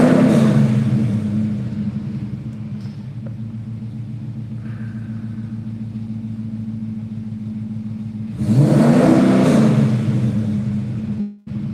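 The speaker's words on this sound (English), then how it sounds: "It's got one of the stationary rev limiters." A car engine is held against a stationary rev limiter, giving a steady loud droning rumble that surges louder near the end before dropping off.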